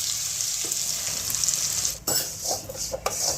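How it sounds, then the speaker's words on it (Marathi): Sattu flour roasts in hot oil with green chillies and coriander for ukadpendi, giving a steady bright sizzle broken by a few scraping stirs of a spoon against the pan, close and alone. "आता हे आपण चांगलं खरपूस भाजून घेऊया तेलामध्ये"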